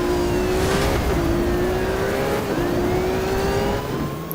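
A Ferrari engine in Need for Speed Rivals drones steadily at high revs, its pitch climbing and dropping back at each gear change, loud and constant throughout.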